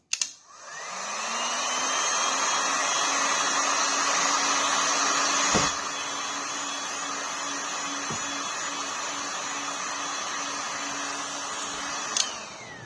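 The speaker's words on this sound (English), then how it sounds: "So I'm going to go ahead and heat it up, and we'll see if that fan comes on." A kitchen oven's convection fan, part of a budget PID-controlled oven upgrade, spins up with a rising whine and then runs as a steady, fairly loud whirring hum. A couple of brief clicks interrupt it, and no one speaks.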